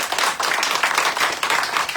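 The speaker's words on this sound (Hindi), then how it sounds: "तो इस आनंद के लिए जोरदार ताली आचार्य जी के हो जाए।" An audience at a religious gathering claps for Acharya ji, a dense burst of hand claps in an uneven rhythm, fairly close and lively, lasting about two seconds with no talk.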